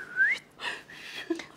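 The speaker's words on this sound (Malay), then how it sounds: "bersiul dulu, Mak." A person whistles alone in short bursts: a rising whistled note, then a couple of breathy, airy attempts and a brief final tone, close and fairly quiet.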